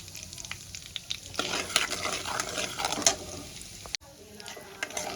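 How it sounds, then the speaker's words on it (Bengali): Bay leaf and whole cumin seeds fry in hot oil with a busy crackling sizzle and occasional stirring clatter against the pan, close up, with a brief pause near the end. "এই তেলের মধ্যে আমি তেজপাতা আর গোটা জিরে ফোড়নে দিয়ে দেব। ফোড়নটা আমি একটু ভেজে নেব।"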